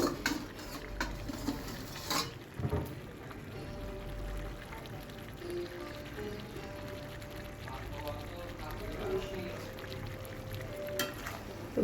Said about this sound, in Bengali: ভালো করে কষিয়ে নিচ্ছি এটা কিন্তু অনেকক্ষণ ধরে কষতে হবে